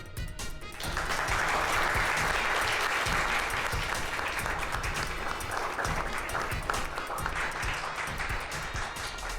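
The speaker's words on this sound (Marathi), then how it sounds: "त्याकरता आपण सगळेजण इरा देवचाकेचं टाळ्या वाजवून कौतुक करूया" A classroom full of students claps to praise a classmate, a brisk burst of applause that starts suddenly and stays dense and steady for several seconds.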